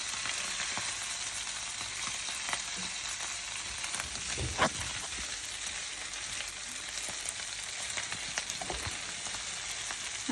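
Masala and dry-fried mussels sizzle steadily in a hot pan, a dense crackling hiss broken by the occasional scrape and clack of stirring.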